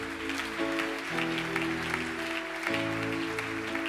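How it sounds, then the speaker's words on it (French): A church congregation claps loudly and steadily over a sustained organ or keyboard chord, with cheering voices mixed into the continuous applause throughout. "Acclamons très fort pour le Seigneur"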